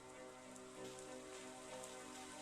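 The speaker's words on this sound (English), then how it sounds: "Starting to rain." Steady rainfall in the survival video game Surroundead, a faint, even patter of drops hitting surfaces with no one talking over it.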